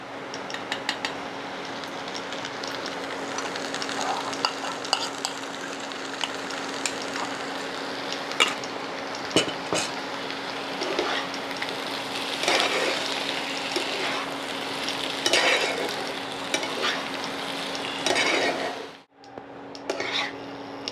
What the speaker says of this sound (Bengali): সব দিয়ে আলু কষানো হয়ে গেছে